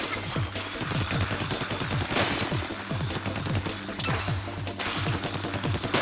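Splattershot ink gun in Splatoon 2's Octo Expansion firing in dense, continuous rapid bursts, a steady stuttering patter layered over a low droning game soundscape with no pauses.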